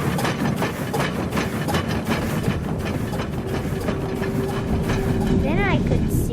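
The California Skunk Train rolling along its rails, a loud steady rumble with rhythmic clickety-clack and a brief squealing whine near the end.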